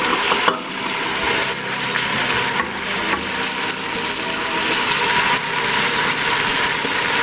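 Chicken pieces with tomatoes and green chillies sautéing in a hot pan, a steady loud sizzle and crackle with occasional scrapes of stirring, continuous with no talking.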